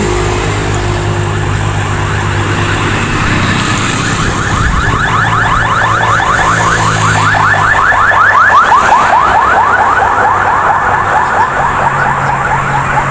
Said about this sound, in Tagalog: Tabi po tayo ng highway kaya maingay.